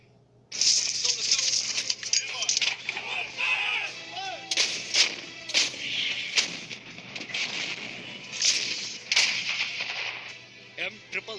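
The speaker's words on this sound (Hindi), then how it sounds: "M777 वो लाइट होविट्जर जो इराक और अफगानिस्तान में अपना दम साबित कर चुकी है" Heavy M777 light howitzer artillery fire booms repeatedly at close range, loud irregular blasts with echoing rumbles, sometimes several shots in quick succession.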